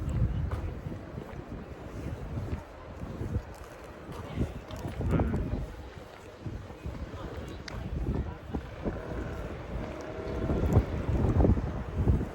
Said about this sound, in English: Sorry if it's windy, by the way.